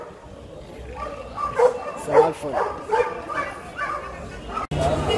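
At the Friday market in Alexandria, dogs give a series of short yips and barks with some whimpering, close by and mixed under people talking.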